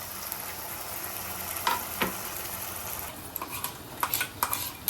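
Thick paste sizzles steadily in hot oil, broken by a few sharp clinks of a utensil against the pan near the end.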